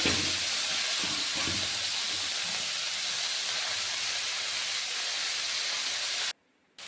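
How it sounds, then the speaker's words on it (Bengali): Greens fry in hot oil with chopped garlic in a wok, giving a loud, continuous hissing sizzle with a few soft stirring knocks early on, then a sudden cut-off. "এবার ওই কড়াইতে একটু তেল দিয়ে দেব, শাকটা ভেজে নেব"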